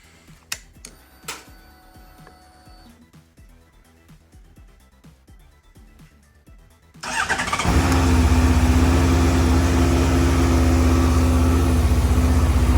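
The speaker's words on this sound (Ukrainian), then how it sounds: "запуск на холодну перший" A Honda CBF600SA motorcycle cold start: ticking and clicking from the ignition come first, then the engine turns over and catches, settling into a loud, steady idle that rumbles on.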